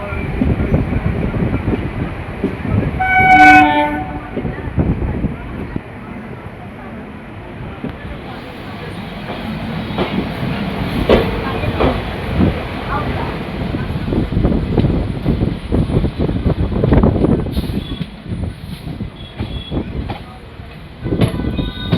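Hazarduari Express running through Dum Dum Junction, a sustained rumble and clatter of coaches on the rails with a brief high horn-like tone early on and bursts of louder passing noise, while people talk over it.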